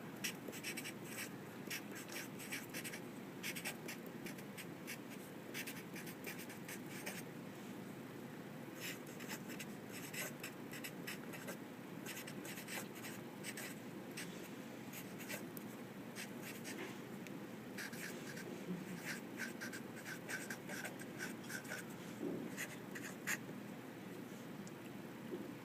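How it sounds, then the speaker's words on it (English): A pen writes a direct quote onto a paper source card, giving a soft, continuous scratching with short pauses between strokes, faint and close, with no voices. "I'm going to write down the actual direct quote."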